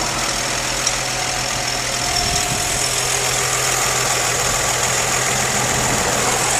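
Engine of a 2005 Infiniti G35 coupe with sports package running close by, a steady, loud, even hum with a constant drone and no clear rise or fall in pitch.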